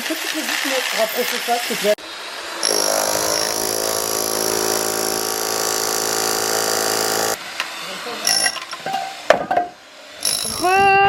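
A power drill runs in one long, steady loud whine for about five seconds, boring holes for threaded rods during a pool renovation, with voices and handling noises before and after.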